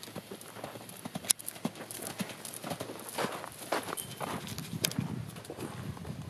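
Horse hooves walk on the ground in a steady, uneven clip-clop, close and moderately quiet, with faint background noise and little talk.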